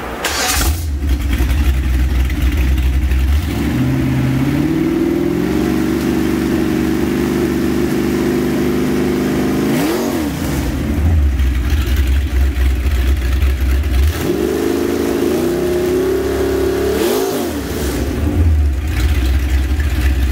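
A 1957 Chevrolet Bel Air's 350 Chevy V8, about 375 hp with Edelbrock heads and a roller cam, starts and runs loud and close, rising in several revs and dropping back to a lumpy idle.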